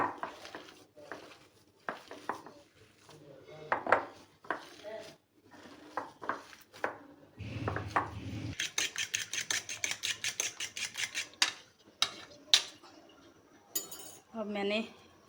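Spices and lemon juice being mixed into chicken drumsticks in a metal bowl, with clinks of a utensil, wet squelching and a quick run of rapid rhythmic taps, close and moderately loud.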